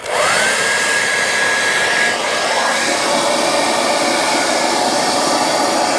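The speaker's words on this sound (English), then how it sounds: "you can do it with a hairdryer" A hairdryer blows steadily, close and loud, heating a Vespa GTS scooter tyre on its rim, a constant airy whoosh with a slight shift in pitch partway through.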